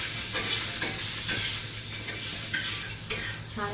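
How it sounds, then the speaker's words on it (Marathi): Garlic sautés in oil in a pan, hissing with a continuous bright sizzle while a utensil stirs and scrapes at intervals, close and loud with no voices. "पुन्हा मी 1 टेबलस्पून तेवढाच ऑइल घेते, आणि जो आपण लसूण घेतला होता त्याला परतवते"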